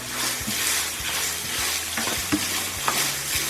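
Mince beef stir fry being stirred through with oyster sauce in a hot pan, a steady sizzle and frying hiss broken by irregular scraping and clacking strokes of the utensil, close and continuous with no talk.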